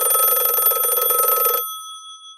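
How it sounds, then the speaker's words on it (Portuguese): A telephone rings inside an audio drama: a loud, continuous electric bell ring that stops abruptly partway through, leaving a brief ringing tail and then quiet. "O som do telefone tirou o major do transe angustiante"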